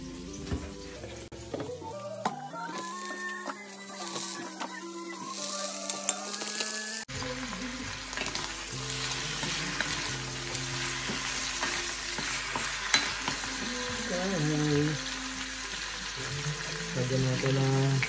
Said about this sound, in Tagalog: Lagay na po natin yung ating shrimp.